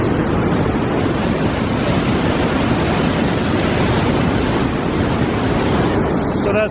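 Water at the Triberg Falls roars in a steady, loud, unbroken rush that fills the whole scene without pause.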